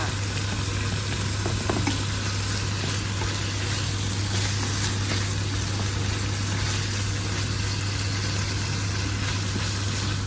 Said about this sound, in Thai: ผัดไปเรื่อยๆค่ะผัดเป็นหมูสุกนะคะ